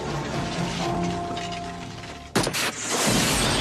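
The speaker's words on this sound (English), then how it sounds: "That was a nice explosion." An explosion from the action movie Invasion USA erupts as a sudden loud burst of blast noise after a stretch of busy music and effects, then rolls on in a sustained, roaring rumble of debris and fire.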